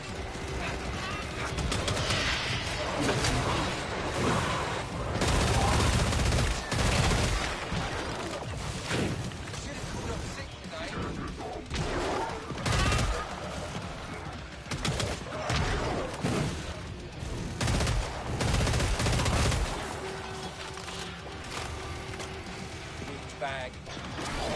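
Sustained automatic gunfire in the Killing Floor 3 video game, loud, dense bursts that rattle on almost without pause, with some speech mixed in among the shots.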